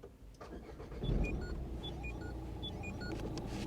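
A 2012 Renault Megane 3 Cabriolet engine cranks and catches, then settles into a steady, loud, close rumble with a slight rise in revs and a few faint electronic beeps, no talking.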